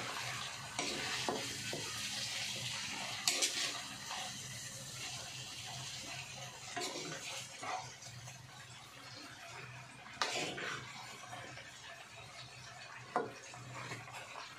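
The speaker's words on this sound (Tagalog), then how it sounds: "nagluluto ako ng litson" Lechon paksiw cooking in a pot, a steady low sizzle with stirring and scraping throughout, broken by occasional sharp clanks of a utensil against the pot.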